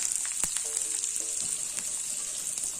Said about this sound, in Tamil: எண்ணெய் சூடாயிடுச்சு. கடுகு உளுந்து பருப்பு போட்டிருக்கேன்.